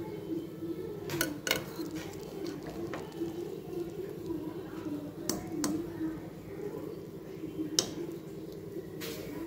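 Cooked veg pulao rice being stirred and mixed in a pot, soft scraping with occasional sharp clinks of a spoon on the rim, quiet and close over a low background hum.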